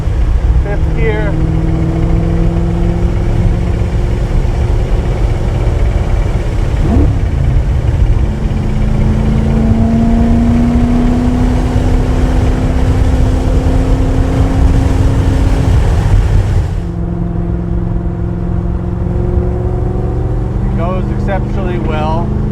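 A 1965 Ford GT40 Mk V pulls hard along a winding road, its loud engine note rising and dropping through several gear changes, with a brief lift off the throttle before it picks up again.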